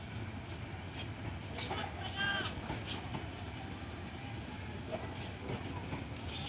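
The Titas commuter train, a local service between Dhaka and Akhaura, runs on the rails with a steady low rumble and faint clatter heard from inside, with some muffled background voices.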